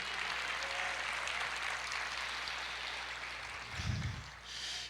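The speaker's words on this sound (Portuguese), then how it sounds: "Quantos podem aplaudir o Senhor?" A church congregation applauds in a steady, fairly soft wash of clapping that fills the whole stretch, with a brief low thump near the end.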